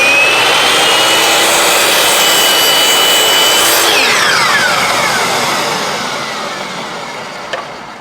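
A handsaw cuts homemade wooden plugs to length, with steady, continuous rasping strokes close by that slowly fade toward the end, followed by a brief knock.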